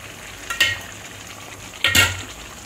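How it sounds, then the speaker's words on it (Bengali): Hot water poured into a chicken curry that has been frying in oil, two short bursts of loud hissing sizzle over a quiet background, each flaring then fading within about half a second. "এই গরম জলটাই দিয়ে দেবো।"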